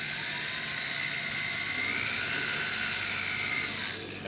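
A power drill bores a small pilot hole into a broken exhaust manifold bolt, giving a steady, high-pitched whine with no pauses and a slight fade at the end.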